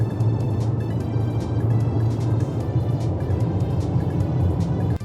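A car cruises along a mountain road in the desert country of Utah and Nevada, its engine and road noise forming a steady, close drone with wind rush over the top.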